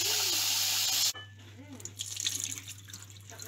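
Running water from a tap pours loudly over lentils being rinsed for a soup, a steady broadband rush for about a second, then stops, leaving faint drips, clinks and handling sounds.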